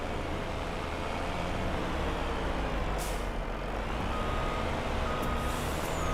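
Truck in Farming Simulator 25 backing up, its reversing alarm beeping steadily over a loud, continuous engine drone, with a couple of brief hissing bursts from the brakes and no voices.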